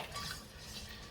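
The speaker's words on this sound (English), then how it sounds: "keep stirring it" Beer cheese dip being stirred in a pot, a soft continuous scraping and swishing of a utensil against metal with faint clinks, close and steady for about a second with no voices.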